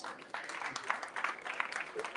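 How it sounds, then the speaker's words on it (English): A round of applause from an audience at a tech presentation, steady dense clapping filling the moment with a few brighter claps standing out, fairly distant and even throughout. "Let's give it a round of applause"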